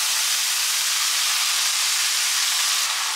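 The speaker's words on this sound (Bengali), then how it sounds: "তেলটা গরম হওয়ার সঙ্গে সঙ্গে এটা তেলের মধ্যে দিয়ে" Chopped green chillies and red amaranth greens sizzle steadily in hot oil, a loud, even hiss that fills the whole moment without a break.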